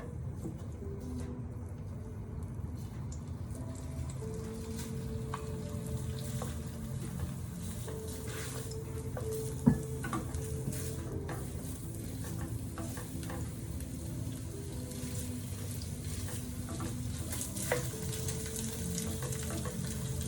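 Sausage for keto stuffed peppers fries in a saute pan with a quiet steady sizzle, occasional stirring scrapes and a faint running-water wash underneath, without speech.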